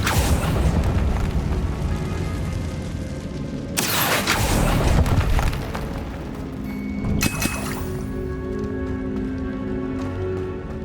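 A Confringo blast spell in the Hogwarts Legacy video game set off inside a spider-ridden catacomb, giving one loud booming burst that fades, then a smaller crack a few seconds later over a constant ambient hum.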